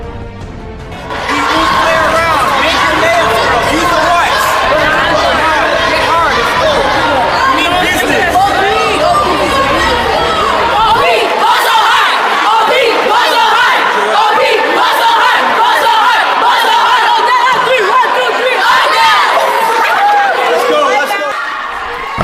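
A rowdy opposing basketball crowd at Brookview roars and chants loudly and continuously, a dense wall of cheering and yelling voices sustained for about twenty seconds.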